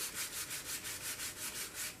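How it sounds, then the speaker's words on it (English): Steady rhythmic rubbing of sandpaper on balsa wood parts, strokes back and forth in an even pulse, close and moderately loud. "I'm going to try sanding this."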